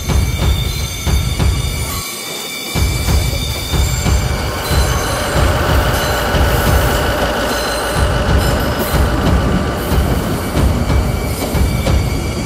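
A train rolls in on the rails with rumbling wheels, rhythmic clacking and high metallic squealing, loud and close throughout.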